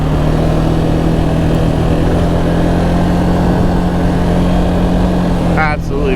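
An ATV engine drones steadily during a ride on Sussex trails, a loud continuous low rumble with a constant pitch, heard up close with no break throughout.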